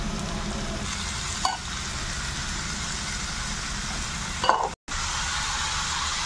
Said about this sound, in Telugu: బాగా తురిమిన ఒక మీడియం సైజులో కట్ చేసిన బీరకాయ ముక్కలు వేసుకొని బాగా వేగేదాకా